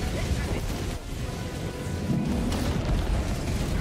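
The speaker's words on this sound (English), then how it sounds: "That's another big old bomb coming in." A heavy bomb explodes in a video game, a dense, continuous booming rumble that fills the whole stretch with roaring low noise and no quiet gaps.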